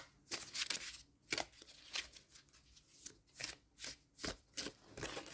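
Tarot cards being shuffled in quick riffling bursts, a series of crisp fluttering snaps repeating every second or so, close up with no talking.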